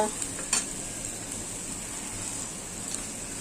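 Onion and ginger-garlic paste frying in oil, a dense close sizzle with a couple of sharp clinks and stirring scrapes near the start, then steady hissing.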